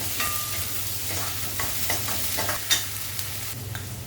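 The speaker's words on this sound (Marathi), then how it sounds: "हळद हिंग छान परतून घ्यायचं" Turmeric and asafoetida sautéing in hot oil, a constant close sizzle with light spatula scrapes and stirring strokes throughout, no speech.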